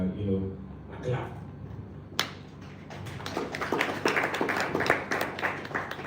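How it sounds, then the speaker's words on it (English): Scattered audience clapping at a circular economy training session builds after an earlier sharp clap, continuing as a spread of overlapping hand claps over low room murmur. "we need to actually give Dennis, a clap."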